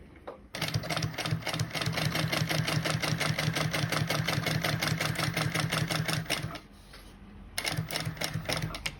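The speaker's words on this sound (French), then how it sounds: "Je vais soulever le pied, pivoter et continuer à coudre mon rabat" Sewing machine stitching the flap of a handmade bag, a steady fast mechanical whirring chatter running for several seconds, pausing briefly while the presser foot is lifted and the work pivoted, then resuming; close and alone.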